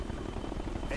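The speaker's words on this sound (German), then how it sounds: "Natürlich kommen jetzt auch die Hubschrauber" Helicopters arriving in the video game Ghost Recon Future Soldier, a loud continuous rotor thrum with low throbbing chop filling the whole stretch, no voices over it.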